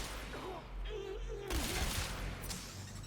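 Gunfire in the video game Warframe, fired from a Sentient Barrage Battacor, rattles in chaotic bursts under a steady bed of game noise, with a faint voice near the start.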